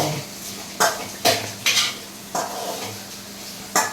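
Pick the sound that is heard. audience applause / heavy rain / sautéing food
sautéing food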